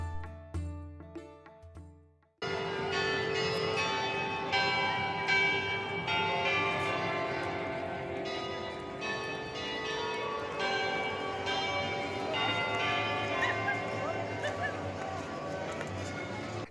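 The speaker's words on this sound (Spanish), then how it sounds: "nos tocó escuchar las campanadas de reloj con una canción dedicada a la Virgen" Church bells ring out a melodic tune, a clock carillon at the Basilica of Guadalupe playing a hymn to the Virgin steadily over faint crowd noise and outdoor bustle, after a few isolated strikes.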